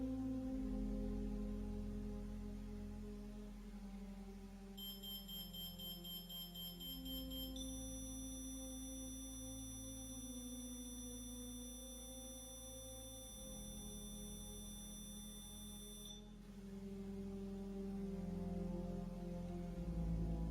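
A paranormal investigation detector device sounds a high electronic alarm, a rapid series of beeps followed by a sustained steady tone lasting several seconds, faint over low room hum.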